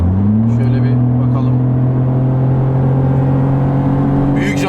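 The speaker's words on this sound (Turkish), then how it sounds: "Şimdi hani direkt dip gaz yapacağım bakacağız işte." A Brabus Smart car engine drones steadily with a rising, strained pitch under full throttle, loud and close from inside the cabin, with a voice talking over it.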